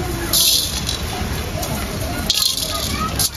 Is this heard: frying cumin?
yes